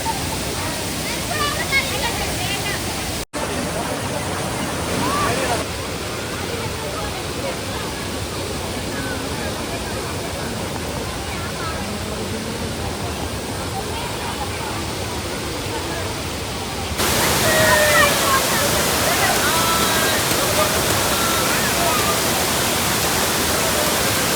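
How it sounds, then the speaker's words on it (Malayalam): A waterfall swollen by heavy rain roars in a steady, dense rush of water that fills the whole clip, loud and close, growing a little stronger near the end. "ഒരു വെള്ളച്ചാട്ടം കാണാനുള്ള ഒരു പോക്കാണ്"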